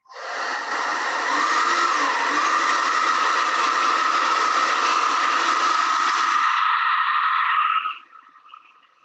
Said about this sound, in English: hit that with the hair dryer.